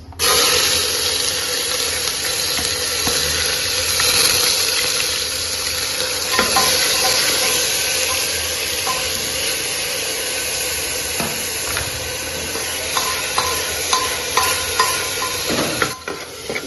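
Onions sizzle with sugar in a hot pressure cooker pan while pulao is being made, a loud, steady frying hiss with faint stirring scrapes and clicks toward the end.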